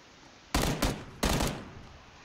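Gunfire in a battle royale video game: two quick bursts of close, loud shots, a double crack followed by a single report, over a quiet game background with no talking.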